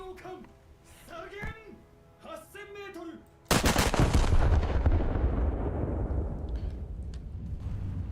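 Battleship main guns fire in World of Warships: after a few seconds of speech, a sudden loud blast breaks in and rolls on as a long, decaying boom that fills the rest of the moment.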